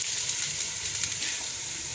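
White onion frying in olive oil, a steady, close, loud sizzle with bright crackle that holds evenly the whole time, with no talking.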